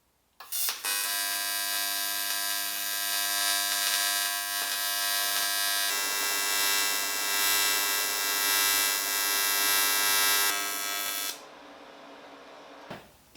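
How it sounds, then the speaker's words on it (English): Aluminium frame pieces being welded together, a steady electric buzzing hum with dense tonal harmonics holding for about eleven seconds before cutting off, then quiet. "I just need to weld all these together now."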